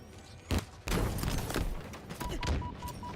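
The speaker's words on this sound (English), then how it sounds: "Some nades thrown out." Grenades burst in a Halo esports playoff match, with a couple of muffled thumping explosions among dense gunfire and game noise, moderately loud and continuous over the few seconds.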